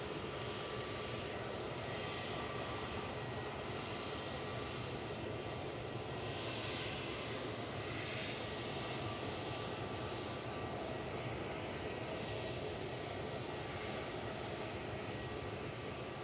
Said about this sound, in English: Got Finnair taxi now, just crossing